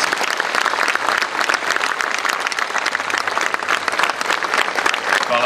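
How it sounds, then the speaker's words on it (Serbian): A full audience breaks into loud, dense applause for Danilo Bata Stojković, an unbroken roar of many hands clapping close and even throughout. "Danilo Bata Stojković zaslužuje lavovski aplauz."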